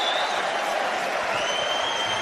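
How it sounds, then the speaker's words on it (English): A stadium crowd applauds during a Scarlets versus Cheetahs PRO14 rugby match, a broad continuous roar of clapping and crowd noise with a faint whistle-like tone running through it. "he gets a round of applause as well"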